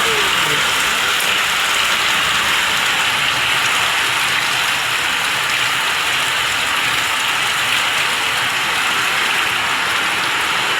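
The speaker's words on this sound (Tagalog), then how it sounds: "Ulan na naman." Steady rain falls around a house where a bathroom is being built, a dense, even hiss that holds at constant loudness throughout.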